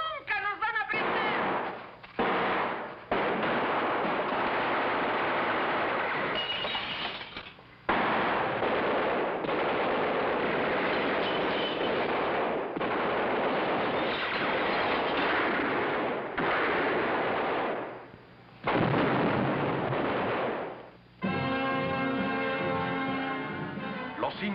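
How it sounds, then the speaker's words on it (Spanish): Gunfire in a shootout from a vintage crime TV drama, loud sustained bursts of rapid shots and machine-gun fire with brief pauses, ending in a different rattling stretch, no clear talk. "¡No quiero seguir disparando!"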